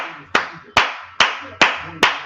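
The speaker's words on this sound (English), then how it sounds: "Everybody clap it up." People in an NFL locker room during the draft clap together in unison, giving five loud, sharp, evenly spaced claps in a steady rhythm with no talking between them.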